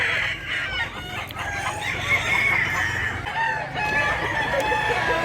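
Crowing roosters and clucking hens fill a busy morning chicken market in Mantalungon, Cebu, a continuous layered chorus of many birds, some near and some farther off.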